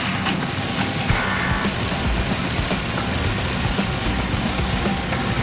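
A compressed-air rock drill hammers through rock deep in a South African gold mine, a loud, dense, continuous rattle that runs steadily throughout without letting up.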